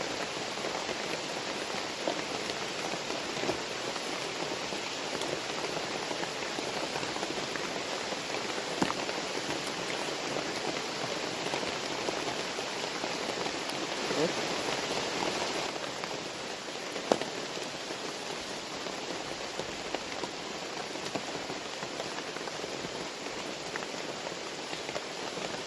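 Rain falls on ferns outdoors in the countryside, a soft, steady patter that stays even and fairly faint throughout, with no voices.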